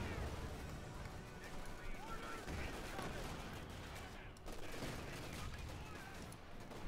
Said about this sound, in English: Grenades and Pershing shots there, clearing out Angreifen's west flank there